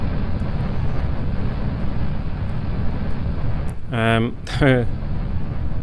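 Rocket engines roar in Kerbal Space Program, a dense, steady rumbling blast that fills the whole stretch, with someone talking briefly over it near the end.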